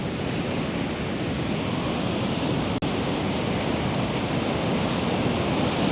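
Ocean surf rolls in a continuous broad roar, loud and close with steady wind noise on the microphone, with a brief dropout partway through and no talk.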